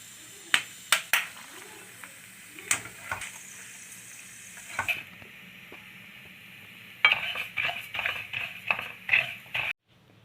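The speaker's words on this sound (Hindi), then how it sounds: "देसी घी डालकर अब बादाम रोस्ट हो रहे हैं।" Almonds roasting in desi ghee in a pan, with soft sizzling broken by sharp clacks and scrapes of stirring that come in clusters, pause, then return in a busier burst.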